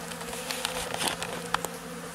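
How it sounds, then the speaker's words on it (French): Honeybee scouts buzz around a swarm trap in spring, a steady insect drone with brief louder passes as bees fly close to the microphone, no voices. "il y avait des abeilles qui commençaient à visiter quoi"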